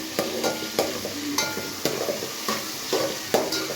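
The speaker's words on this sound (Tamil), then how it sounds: "ஸோ இது நல்லா வதங்கி வரட்டும் வெங்காயம் தக்காளி" Onions, tomatoes and a green chilli sauté in a pan for prawn kuzhambu, with a spatula scraping and stirring in quick, repeated strokes over a light, close sizzle.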